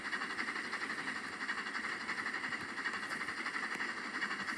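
A locomotive labors up a grade on a mountain railroad, a steady rumbling drone with a hissing wash and faint rhythmic clatter, close and continuous without speech.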